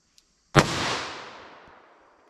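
A single sharp gunshot from a .38 Special revolver firing Magtech JHP ammunition, a loud close crack with a long echoing decay fading over nearly two seconds, preceded by a faint click.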